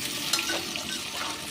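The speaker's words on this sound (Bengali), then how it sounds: "এই আলুগুলো আমি একটু ভেজে নেব" Boiled potatoes dusted with turmeric fry in a pan, a short burst of steady sizzling with stirring scrapes over it.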